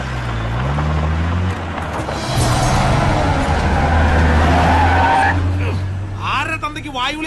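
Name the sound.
car driving off with tires skidding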